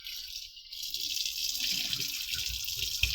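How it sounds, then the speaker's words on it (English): A kitchen tap runs steadily as eggs coated in baking soda are rinsed, a constant close splashing rush of water that swells slightly after the first moment, with no voices. "Rinse the baking soda out."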